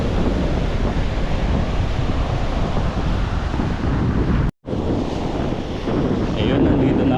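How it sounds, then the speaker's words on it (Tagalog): Strong ocean surf with whitecapped waves breaking under a cloudy sky, a continuous loud wash of water mixed with heavy wind buffeting the microphone, briefly cutting out midway. "ang lakas ng alon, namumuti"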